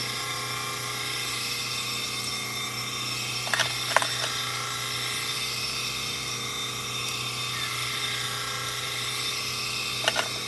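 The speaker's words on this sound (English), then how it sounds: "I'm just doing some corrective sharpening on some wide blades." Wide clipper blades being sharpened on a grinding machine give a continuous, close, high whirring hum with steady mechanical drone, broken only by a few faint clicks.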